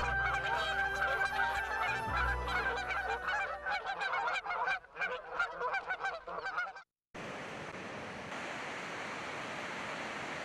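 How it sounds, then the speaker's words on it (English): A flock of Canada geese honks overhead outdoors, a dense chorus of overlapping calls for about seven seconds before it cuts to a steady broadband rush like wind or surf. "A flock of Canada geese overhead."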